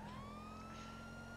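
A siren wails steadily, its pitch slowly rising, loud and sustained over a rumbling engine.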